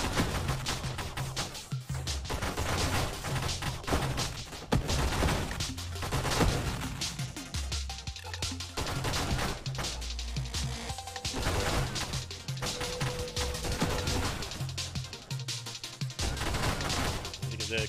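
Weapon fire in the space shooter Nova Drift, a railgun with knockback: dense, continuous bursts of sharp blasts and crashes layered over thumping game music, loud and busy throughout with no pauses.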